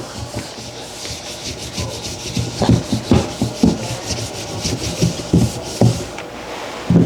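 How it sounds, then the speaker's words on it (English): A cooling tool is rubbed back and forth over a DTF print transfer, giving a dry scraping rasp in irregular strokes, quiet at first and then a series of firmer rubbing passes, close up with no talking. "They sent this cooling thing you rub on here."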